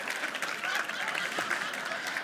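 A theatre audience claps in a dense, steady burst of applause, fairly loud and even throughout, with a faint murmur of voices mixed in.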